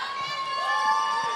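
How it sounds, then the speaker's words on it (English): Crowd at a college ice hockey game between George Mason and James Madison rising in a steady cheer, a broad murmuring roar with a commentator talking over it. "And the crowd's giving some cheer now to the Masons."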